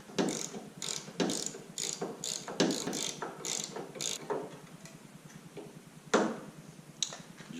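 Wrench clicking away at hinge nuts on a Ford Bronco quarter panel: repeated ratcheting bursts in an irregular rhythm, up close and moderately loud, with a few sharper metallic clanks.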